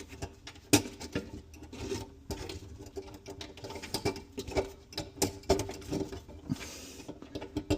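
A dishwasher is pushed into its cabinet opening during a home install, giving irregular scraping, rubbing and knocking bumps close by, with no talk.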